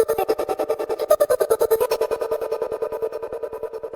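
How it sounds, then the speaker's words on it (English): Chopped vocal phrase sample from a beat kit for a 2Hollis-style beat, sounding as a rapid, even stutter of short vocal slices pulsing steadily for several seconds, loud and alone. "Then I added a second vocal phrase."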